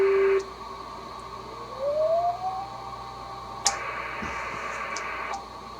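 A steady CW tone from a Kenwood TS430S ham radio with a narrow filter, a clean sustained beep that slides up in pitch at one point, with a brief click and quiet background hiss.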